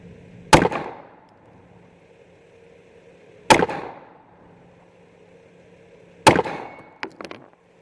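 Sig P365 pistol fired at an outdoor target range in cold weather: three sharp, loud single shots spaced about three seconds apart, each with a short ringing decay, the last followed by a couple of quick metallic clanks.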